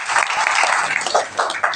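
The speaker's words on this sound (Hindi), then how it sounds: "एक बार जोरदार ताली हो जाए इसके लिए" Crowd at an Independence Day celebration in a tehsil gathering claps loudly, a short dense burst of applause from many people.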